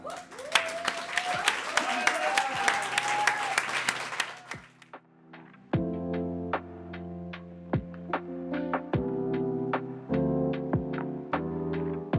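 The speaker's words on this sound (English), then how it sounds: "Ladies and gentlemen, please a round of applause" Audience applause at a university award ceremony, a steady wash of clapping with voices over it for the first few seconds, giving way to music with sharp rhythmic hits.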